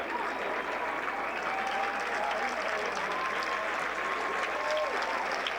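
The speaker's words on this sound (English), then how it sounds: "Listen as these very appreciative fans here at Amen Corner applaud these two champions" Golf fans at Amen Corner during the 1990 Masters final round applaud two champions, a steady, moderately distant wash of clapping that holds for several seconds, with a faint voice threading through it.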